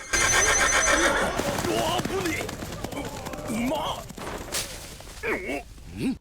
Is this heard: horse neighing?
yes